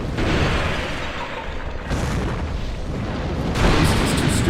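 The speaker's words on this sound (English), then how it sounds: "At least it's too stupid to dodge the explosion." Fiery spell explosions in a video game, a sustained roaring blast that swells again near the end, loud and dense with crackling noise and no talk over it.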